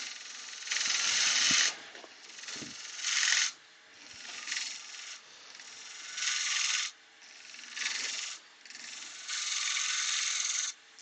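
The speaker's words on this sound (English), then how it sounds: "Just clean out with a spindle gouge." A spindle gouge cutting wood on a lathe while turning an apple shape, giving repeated bursts of bright, hissing scraping about a second long, separated by short pauses as the tool is lifted and reapplied, close and moderately loud.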